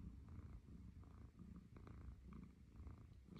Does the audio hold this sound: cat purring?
yes